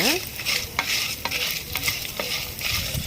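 Coriander seeds and Kashmiri chilies fry in sesame oil with a bright, crackling sizzle, punctuated by clinks and scrapes of stirring; nobody speaks.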